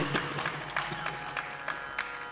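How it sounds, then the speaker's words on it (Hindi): Audience applause welcoming performers at a ghazal gathering: a dense, steady patter of many hands clapping throughout, fairly close and even, with a few louder claps standing out. "तालियों से आज के फनकारों का इस्तकबाल कीजिए, स्वागत कीजिए"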